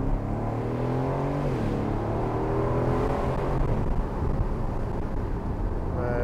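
An Aston Martin Vantage F1 Edition accelerates hard to overtake, its engine note climbing in rising harmonic sweeps that drop back at each gear change, heard loud and steady from inside the car.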